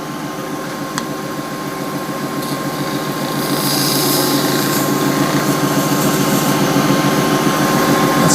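A spindle gouge shapes a red resin shaving brush handle spinning on a lathe, making a loud, steady whirring drone that swells a little partway through and continues without talk.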